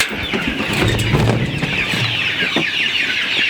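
Chickens cluck steadily on a poultry farm holding about 500 breeding hens, the calls close and continuous over a dense background of flock noise.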